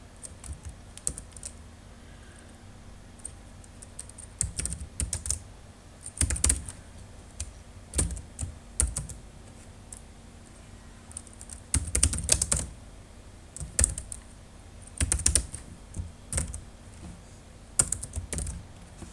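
Rapid clicking of a computer keyboard as code is typed, in irregular bursts of keystrokes with short pauses, close and fairly quiet with no talking.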